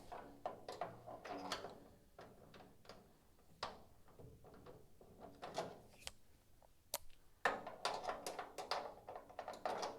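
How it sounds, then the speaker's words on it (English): Deep socket wrench ratcheting on long bolts in a garage, giving bursts of quick, close clicking with short pauses and a few sharper metallic ticks between them. "It's hard to even get the deep socket on there."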